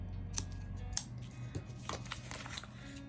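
Scissors snip through paper while trimming a page for a January budget and debt tracker planner: a few crisp, close cuts with soft paper rustle between, quiet, no talking.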